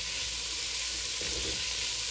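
Vegetables sauté in oil in a soup pot, a constant loud hissing sizzle with a brief soft stir partway through, close and steady.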